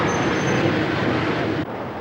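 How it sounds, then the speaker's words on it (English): Mail train 1M58, the evening service from Peterborough to Crewe, pulling into platform 2 at Derby station, a steady loud rumble of rolling stock with a faint high whine, cutting to a quieter tone near the end. "1M58, which is the 2005 from Peterborough to Crewe, arrives in platform 2."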